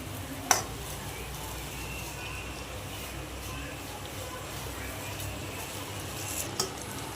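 Roasted vermicelli is stirred into boiling water for sweet dum ki seviyan, giving quiet scraping and stirring in a pot with a faint bubbling hiss and a couple of sharp clinks.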